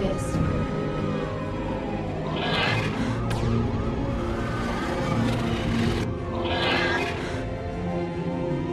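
Police car siren woven into a music track, its rising and falling wail surfacing twice over a dense, loud instrumental bed with layered melodic parts.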